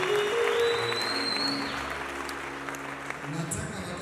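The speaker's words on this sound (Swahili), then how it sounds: "Tushangilie Yesu makofi." Congregation applauding inside a church during a live wedding service, a broad steady patter of clapping that carries through the whole stretch, fading slightly toward the end, with a voice and some crowd murmur underneath.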